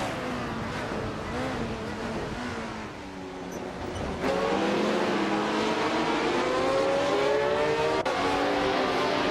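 Several 1971 Brabham BT34 open-wheel race cars in a racing video game, engines droning and shifting pitch steadily, one car rising louder midway as the pack races on without talk.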